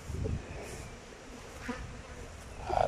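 Honey bees buzzing around a beehive in an apiary, a soft continuous drone close by, with faint handling noises and no talking.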